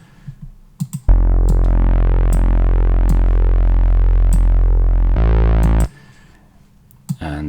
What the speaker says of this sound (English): it's just a combination of white noise, very slightly, saw wave and a triangle wave